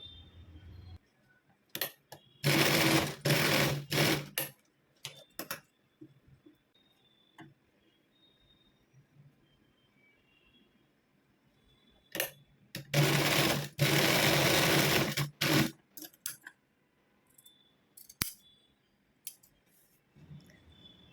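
A sewing machine stitches small cloth hangings for lehenga latkans in two loud, close bursts of rapid mechanical whirring, with scattered clicks and quiet gaps between runs and no talk.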